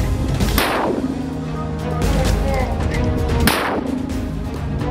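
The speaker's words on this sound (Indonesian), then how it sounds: "Brigade Mujahidin menghantam kumpulan tentara Zionis Israel dengan menggunakan mortir kaliber 60 mm" Standard 60 mm mortar fire aimed at Israeli troops near Gaza City: loud, booming blasts at about half a second and three and a half seconds, with rumbling reverberation and constant battlefield noise between them.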